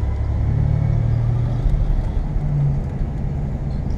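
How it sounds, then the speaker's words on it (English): A 1986 Buick Grand National turbo car on the move, giving a steady, loud low engine rumble with a sustained droning tone that rises slightly partway through, heard up close with no talking. "today I am driving a 1986 Buick Grand National"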